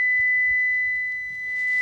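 A Lexus RX450hL sounds a warning while its powered third-row seat unfolds, a steady high electronic tone holding clearly over a quiet cabin for nearly two seconds.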